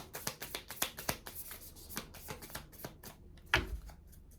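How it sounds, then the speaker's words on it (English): Tarot cards being shuffled by hand: a run of quick, crisp riffling flutters and slaps at close range, with a sharper snap near the end and no one speaking. "I've got to shuffle more times."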